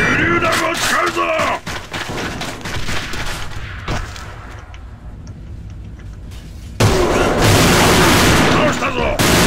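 Heavy, continuous gunfire and booming grenade blasts in the AVA shooter game on the Airplane map, loud and close, with a louder burst near the end and voices speaking over the battle.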